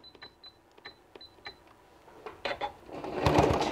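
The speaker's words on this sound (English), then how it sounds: "I'm going to stitch and then I'm going to set this machine to a zigzag and then zigzag along the edge" A sewing machine stitches a zigzag seam along the edge of fabric scraps for a small gift card case, starting as light intermittent ticking and building into a louder, steady run of close stitching at the end.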